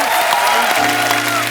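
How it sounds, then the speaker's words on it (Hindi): Studio audience at a Hindi TV comedy show applauds loudly and densely, with a sustained tonal sound and a voice running underneath the clapping throughout. "एक बार सुनिधि और हितेश के लिए जोरदार तालियां"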